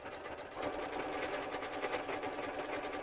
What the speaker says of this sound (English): So I'm doing a decorative stitch right now.